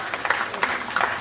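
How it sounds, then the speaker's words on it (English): Audience clapping at a keynote speech during an advocacy event, moderate and steady with a few sharper bursts across the short stretch, mixed with faint voices. "you're allowed to clap while I'm talking"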